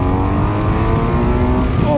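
A 2017 BMW F800R motorcycle accelerates hard in second gear, its engine a loud, steady close-up drone that climbs in pitch toward the end.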